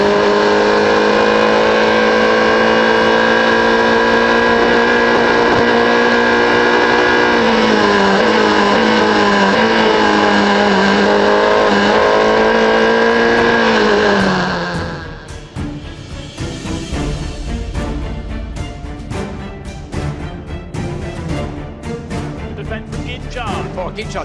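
Race cars in a GB4 race howl past at full throttle. One loud engine sweeps and shifts pitch for about fifteen seconds, then fades into a rougher, busier mix of engines and crowd noise.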